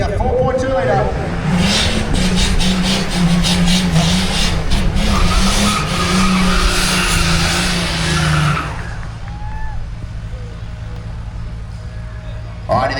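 A 4WD drag race launch of a 4.2 litre vehicle at Benaraby: a loud, sustained engine roar with tire noise for about eight seconds, then it drops away to distant rumble under a crowd and commentary.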